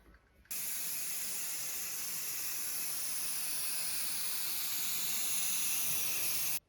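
A steady, loud hiss of a rattle can spraying primer onto a Range Rover panel runs continuously for several seconds after a short pause, then cuts off abruptly.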